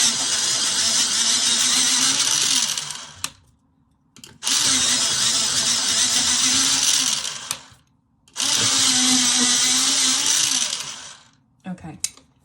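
An electric sharpener grinds coloured pencils in three loud, sustained bursts of about three seconds each, separated by short pauses, with a brief final whirr at the end.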